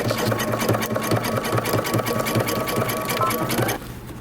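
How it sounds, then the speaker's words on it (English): A sewing machine runs a narrow zigzag bar tag on denim jeans, a rapid, close mechanical chatter of the needle over a whirring motor that stops near the end. "Now I'm going to move up and I'm going to switch to a narrow zigzag stitch."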